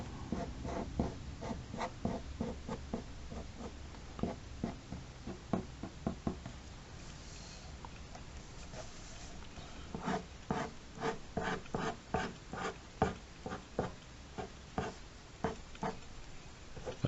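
A pencil scratches across paper in bursts of short, rhythmic strokes, close and fairly quiet, with brief pauses between runs of shading; no talking.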